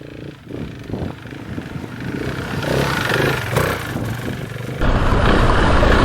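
A KTM 690 Enduro R single-cylinder motorcycle labours along a soaking-wet, tricky trail, its engine note rising and surging loudly up close with clattering and a heavy roar toward the end.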